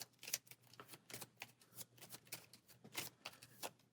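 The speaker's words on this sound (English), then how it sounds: "And shuffle for the next round." A deck of game cards for a fantasy deck-building card game is shuffled close by, a quiet run of soft riffling and tapping bursts with no talk.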